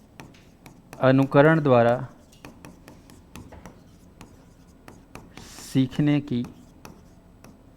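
Chalk or marker tapping and scratching on a classroom board in short, scattered strokes, heard between and under a man's spoken phrases.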